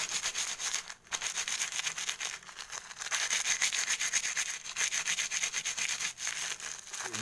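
Homemade fish bait for nilem is crushed and mashed until fine, producing a quiet, close, continuous scraping and rubbing with a steady back-and-forth rhythm and no talking.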